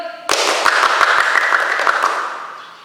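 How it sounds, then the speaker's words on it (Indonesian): Audience at a children's Sunday school church service applauds the kids, a dense burst of clapping starting abruptly, sustained and fairly loud, then gradually tapering off. "kita berikan tepuk tangan yang meriah untuk adik-adik yuk"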